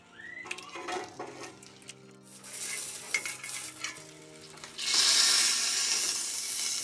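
Fish paturi wrapped in banana leaf fries in a pan. Utensil clinks and soft stirring come first, then the sizzle swells loudly toward the end.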